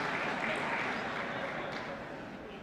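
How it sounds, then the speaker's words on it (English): Applause in the chamber of Congress during President Bill Clinton's 1999 State of the Union address, a steady dense wash of clapping sustained throughout, fading slightly toward the end. "we had one member of Congress stand up and applaud"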